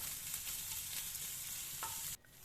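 Onion and garlic fry steadily in a pan for a potato momo filling, a dense continuous sizzle that cuts off abruptly near the end, with no voices.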